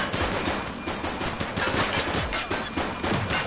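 Gunfire crackles in The Precinct police game, a dense exchange of rapid shots and bursts with an uneven rhythm, loud and close throughout, with no talking.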